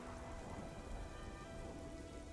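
Steady, dense rainfall pours down in Xenoblade Chronicles 3, a continuous close hiss of drops hitting surfaces with a low rumbling undertone, with no voices.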